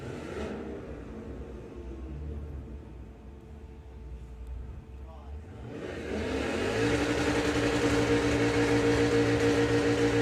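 A drag racing car at Santa Pod Raceway during the STP Springspeed Nationals, heard as a loud engine drone that swells into a sustained roar with a strong revving tone, rising from the middle of the clip to the end.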